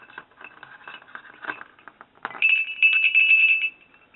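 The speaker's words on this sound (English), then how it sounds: "obviously not a crotal bell, but a bell of some sort" Small metal bells found with a metal detector ring in turn: a soft, busy jingle of little bells shaking, then a brighter, sustained high-pitched ring that holds for about a second before fading, close and alone.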